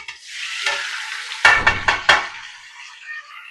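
Sliced onions sizzle in a hot pan while being stirred, a steady frying hiss broken by a quick run of scraping, clattering stirs near the middle.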